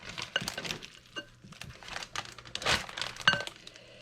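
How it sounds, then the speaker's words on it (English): Food going into a gallon-size plastic Ziploc bag, with close, irregular crinkling and rustling of the plastic in short bursts and a few light clinks, no talking. "we are going to go ahead and put this into a gallon Ziploc"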